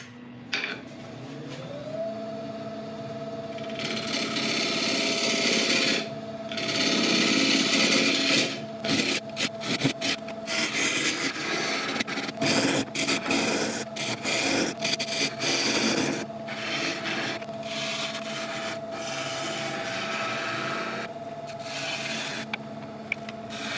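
Wood lathe turning a natural-edge elm burl bowl, a steady motor hum with a faint rising tone under loud, broadband scraping and rasping of the cutting tool, cuts stopping and starting in bursts, no talk.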